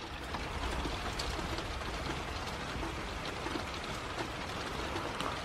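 Rain falls steadily in breezy weather, a soft, even wash of drops with faint pattering, continuous and fairly quiet with no voices.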